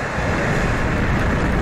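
Liftoff of an Atlas V rocket carrying NOAA's GOES-T weather satellite makes a dense, continuous broadband roar, steady and loud throughout, heard from a distance without voices.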